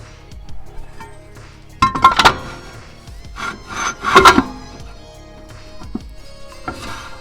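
Intermittent metallic scraping and rubbing from the handbrake shoes of an 80 series Toyota LandCruiser, two louder grinding bursts among quieter rasps, close by with no talking.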